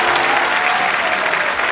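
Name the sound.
studio audience giving loud applause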